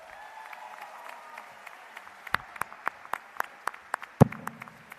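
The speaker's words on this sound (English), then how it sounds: "Please give him a round of applause." Scattered hand claps at a 2022 graduate ceremony, a thin, sparse round of applause from an audience in a hall, with individual sharp claps standing out and a loud clap near the end.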